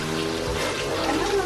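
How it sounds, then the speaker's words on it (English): Sauce is poured over cooked crab and fish in a Jamaican kitchen, giving a brief, close, continuous liquid trickle and slosh. "The sauce I will pour over it."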